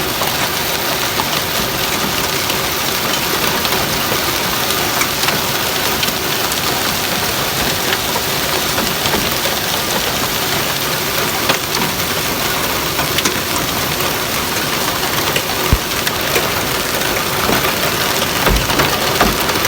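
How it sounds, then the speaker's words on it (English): Large hail falls on a gas station parking lot in Sycamore, Illinois, a dense, loud, unbroken clatter of stones hitting pavement and surfaces nearby, with a faint engine idling underneath. "We're getting hail right now in Sycamore, Illinois."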